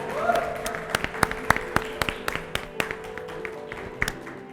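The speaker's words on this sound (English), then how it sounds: "big round of applause for all these guys" Scattered applause from a small audience at the close of a chef's masterclass at an industry expo: distinct individual claps spaced out over steady background murmur and a faint tone, fairly close and moderate in level.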